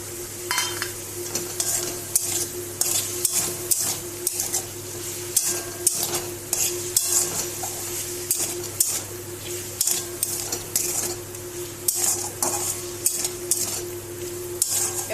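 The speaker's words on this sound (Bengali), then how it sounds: "একটু হালকা বাদামি করে মাংসগুলো আমি ভেজে নেব" Meat fries in a pan with soy sauce, crushed ginger and garlic, giving a continuous close sizzle broken by frequent scraping, clinking stirs of a utensil against the pan.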